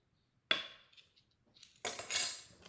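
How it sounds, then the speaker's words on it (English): A wire whisk beating vanilla and salt into thin brownie batter in a bowl, with a sharp metallic clink followed by quiet scraping, then a close burst of rapid clattering strokes. "We're gonna whisk all this together."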